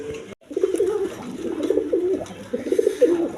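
Pigeons coo at a farm in repeated, close, throaty burbling phrases after a brief silent gap, the calls pulsing in short bursts with no talking.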